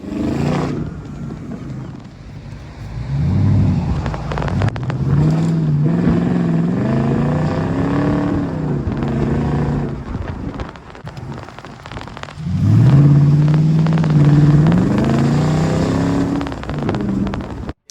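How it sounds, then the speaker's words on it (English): A 2018 Morgan Plus 8 50th-anniversary limited edition with a 4.8-litre engine and automatic gearbox revs hard twice from idle, each loud, close exhaust blip rising and falling with a deep, rumbling note, alone with no talk. "The exhaust note on this car is absolutely phenomenal."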